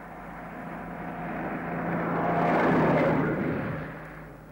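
A lorry passes by on the road, its engine rumble swelling as it approaches, peaking near the middle, then fading away as it drives off.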